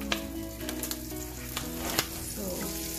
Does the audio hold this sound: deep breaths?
no